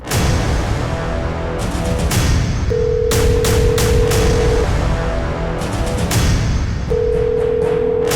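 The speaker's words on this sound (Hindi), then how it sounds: "मिनी बेटा, फोन लगाती हूँ।" A steady telephone dial tone hums in two stretches, over a constant background of clattering, crackling noise with sharp bursts.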